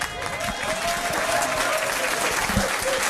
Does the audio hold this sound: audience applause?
yes